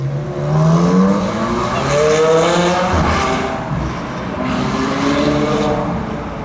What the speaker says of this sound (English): an MSO 720S with some kind of loud exhaust on it